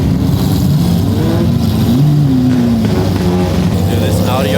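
An orange Lamborghini pulls away from a busy car meet, its engine revving loudly and steadily up close, with crowd chatter and other engines rumbling around it.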